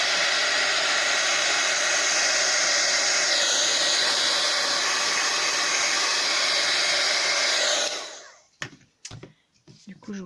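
A hair dryer blows a steady, loud, airy roar close by while it dries an art journal page, then switches off after about eight seconds, leaving a few scattered handling clicks and rustles.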